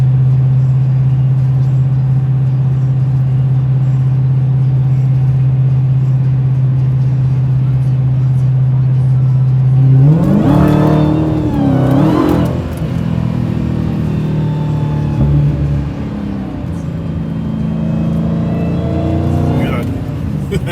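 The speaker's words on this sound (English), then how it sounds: "That supercharger is sweet." A supercharged Dodge Challenger Redeye cruises on a back road with a steady low drone, then surges into hard acceleration with rising, wavering engine pitch and a blowing roar, while people talk in the cabin.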